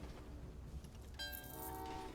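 A train running in the Train Valley 2 video game, with a steady rumbling rail hum that brightens into a layered, horn-like tonal sound partway through and carries on to the end.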